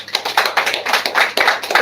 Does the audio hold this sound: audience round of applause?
yes